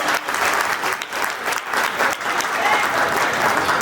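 Warm crowd applause at a reunion gathering of SRP Group 7 in Nadiad, a dense, continuous patter of many hands clapping with slight swells, filling the whole moment without pause.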